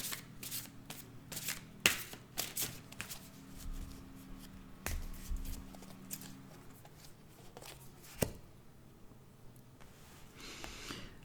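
Cards are shuffled for a tarot-style reading, giving repeated soft riffling and flicking bursts with a few sharper slaps, close and fairly quiet, with no talk.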